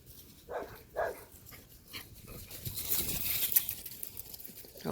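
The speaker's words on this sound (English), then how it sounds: "Hopefully one day that dog will shut up." A dog gives a couple of faint, distant barks in quick succession over quiet background noise, followed by low indistinct rustling.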